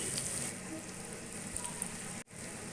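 Small moong dal mangochiyan frying in hot oil, a steady close sizzle and crackle that runs continuously, briefly dropping out near the end before resuming.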